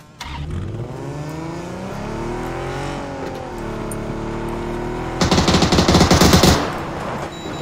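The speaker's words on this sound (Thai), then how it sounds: "เฮ้ยเสียงมอไซค์ มันมีเสียงรถมา" A motorcycle engine in a video game climbs in pitch as it approaches, a loud rising drone broken near the end by a burst of rapid gunfire.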